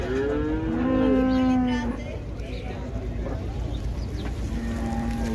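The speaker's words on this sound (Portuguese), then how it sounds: "Tem uma vaca." A cow at a busy cattle market in Águas Belas, Pernambuco gives one long, loud, close moo, followed by steady crowd murmur and low background noise.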